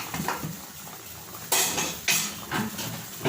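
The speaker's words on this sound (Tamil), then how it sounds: "இப்போ வந்து ப்ரெஷர் போயிடுச்சு. நம்ம மூடி ஓப்பன் பண்ணிடலாம்." A home pressure cooker lid opened once the pressure has gone, with metallic clanks and scrapes of the lid against the pot, two or three sharp close knocks among softer handling noise.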